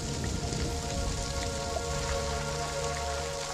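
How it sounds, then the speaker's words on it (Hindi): Heavy rain pours steadily, a dense, continuous hiss of drops hitting surfaces, loud and unbroken throughout with no voices. "कितनी बारिश हो रही है, जल्दी घर लौटाओ।"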